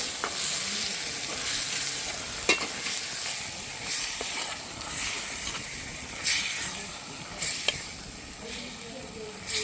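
Ground coconut paste being stirred into a beef curry sizzling in a pan, with steady frying hiss and occasional scraping clicks of the spoon, close and moderately loud throughout.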